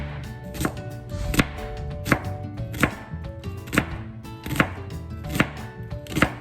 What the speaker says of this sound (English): we're gonna go ahead and slice up our onion